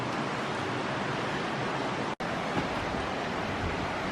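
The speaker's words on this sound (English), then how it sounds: "Here it is, little Cascade I wanted to see." A small, low-flowing cascade at Shangri La Falls in Bankhead National Forest, Alabama, pours as a steady, broad, hissing rush of falling water, loud and unbroken apart from one momentary dropout.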